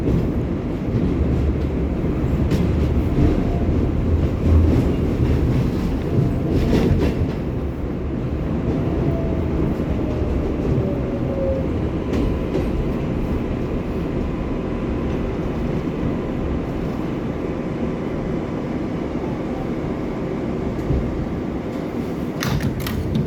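An R188 subway car on the 7 line, heard from inside as a steady loud rumble with faint clicking of wheels over rail joints and occasional squeals, continuous for the whole ride segment.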